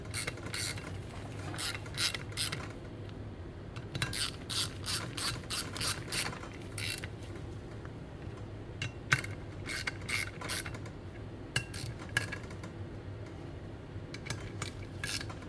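A hand ratchet clicks in quick repeated runs while snugging down the bolts on a Garrett TP38 turbo from a 7.3L Power Stroke, the sharp metallic ticks close and fairly clear over a low background hum.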